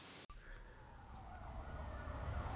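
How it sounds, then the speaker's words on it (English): A distant siren wails faintly and steadily after a brief cut, a low continuous rise and fall heard alone. "The three of us sit in darkness as a siren wails outside."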